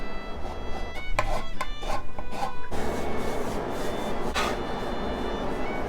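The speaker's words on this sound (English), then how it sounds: "Remove the zest from the lemon." A lemon is zested on a grater with a run of quick, close rasping scrapes in the first few seconds, then a steadier scratchy rubbing under a low background hum, with no talking.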